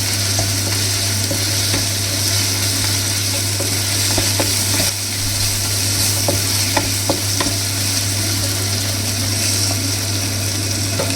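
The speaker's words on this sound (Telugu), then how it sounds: "ఇప్పుడు 1 స్పూన్ అల్లం వెల్లుల్లి పేస్ట్ వేసుకోవాలి. పచ్చివాసన పోయే వరకు వేయించుకోండి." Ginger garlic paste frying in a pan for a chicken fry, a steady loud sizzle with occasional stirring clinks and a low continuous hum underneath.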